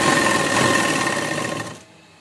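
A sewing machine runs steadily, stitching a triangle-shaped seam on a burqa, then winds down and stops near the end.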